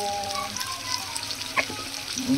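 Food sizzling in a pan during home cooking, a steady close frying hiss with occasional stirring clinks and small pops, plus faint background tones.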